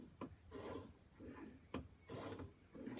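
A wood chisel is rubbed back and forth across a sharpening stone in slow, regular rasping strokes, close and fairly quiet, with short pauses between passes and no voices.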